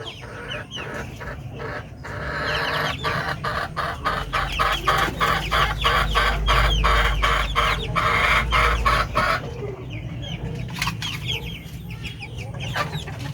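Pure Darag native chickens, five kept in a pen, cluck in a busy, overlapping flurry with a few louder calls close by. The clucking is steady throughout, with no talking.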